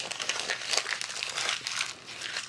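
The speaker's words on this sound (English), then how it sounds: "I think I'm going to crumple it up and then straighten it back out again" Sheet of paper, an old dictionary page, crumpled by hand, giving a steady run of close, soft crackling and crinkling.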